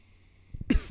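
A single short, close cough from someone choking on their own spit, abrupt and throaty, with nothing else around it.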